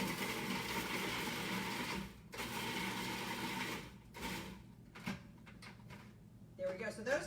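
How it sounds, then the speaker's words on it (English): A food processor chops peppers for a chicken and bean chili, its motor whirring loudly and steadily for about two seconds, then running again in shorter pulsed bursts separated by brief pauses. "So I just put the peppers inside the food processor."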